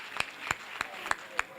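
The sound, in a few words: audience clapping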